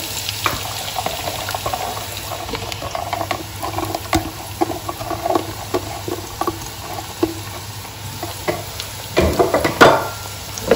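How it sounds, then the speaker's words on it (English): Whole cumin seeds and finely chopped onions sizzle in hot oil for a chicken and potato curry, a steady crackle broken by scattered clicks and stirring scrapes, fairly close with no voices. "I'm going to add 1 teaspoon of whole cumin seeds to that, and I'm going to add finely chopped onions in there."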